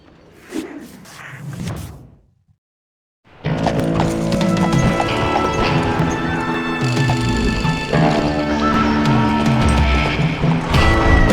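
Horses gallop in within the Call of Juarez: Gunslinger video game, a loud, dense drumming of hooves and whinnies that bursts in after a brief silence and carries steadily, layered with game music.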